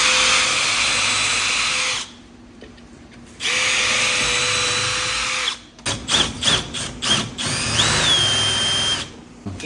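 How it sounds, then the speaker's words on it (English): A power drill countersinking screw holes in kitchen cabinets runs in two long loud whining bursts, then gives several short stuttering pulses and a final sustained run, all close and without talk. "So we countersink it so it doesn't leave a mark."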